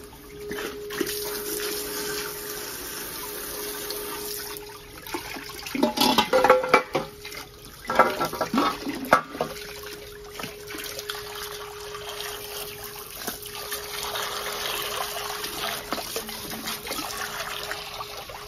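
Running water rinses a SEAT 124 cylinder head: a steady close pour and splash that swells with rougher gushes partway through, then settles back to an even flow, with no talk.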